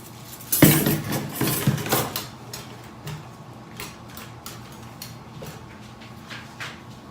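A spoon stirs a soap mixture in a container, giving a few loud clinks and scrapes early on, then softer, scattered taps and ticks.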